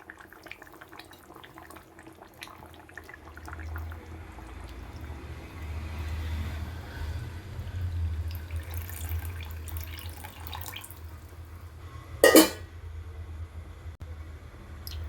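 A steady stream of thick first-press coconut milk pours into a pot of vegetable chicken curry over a low rumbling hum, followed by a brief sharp clank near the end.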